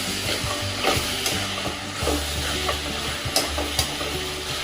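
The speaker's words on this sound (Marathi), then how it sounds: "या स्टेजला आपल्याला ही धने पावडर आणि जिरे पावडर घालायची याच्यामध्ये. ह्याला चांगलं असं मिक्स करून घ्यायचं," Coriander and cumin powder stirred into a sizzling tomato masala for chicken biryani, with steady frying hiss under rhythmic scraping of a spoon against the pan and a few sharper clinks.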